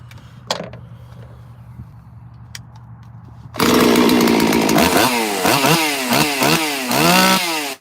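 A chainsaw sits quiet with a faint idle and a few knocks, then roars to high RPM, holding loud with repeated revs that dip and climb while running rich.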